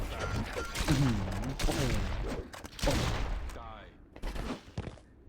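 Gunfire rattles in the Mortal Kombat Mobile video game in quick bursts of rapid shots, mixed with game effects, while someone talks over the action.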